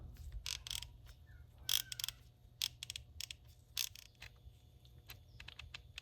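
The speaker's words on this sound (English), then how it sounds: "Yeah, there's the ratchet." A Gedore 1/2-inch 48-tooth ratchet clicks close up in quick, irregular bursts of fine ticks, fairly quiet over a low steady background hum.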